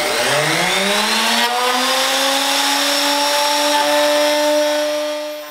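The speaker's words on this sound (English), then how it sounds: "Using a ginormous pattern bit to clean off this waste was probably dangerous" A loud router with a large pattern bit whines steadily, its pitch rising as it spins up and then holding a high sustained tone while cutting a maple slab, with no voices.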